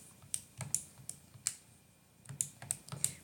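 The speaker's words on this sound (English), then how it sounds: "remember to be cautious about how you type that into your calculator" Fingers tap number keys on a calculator in a series of light, crisp clicks at an irregular pace, some close together and others spaced apart, quiet and without voices.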